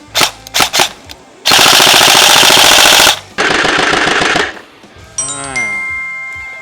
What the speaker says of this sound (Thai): ก็จะมีฟิลลิ่งในการยิงเข้ามานะผม ก็สนุกดีสำหรับตัว HK MP5 จากค่ายโบ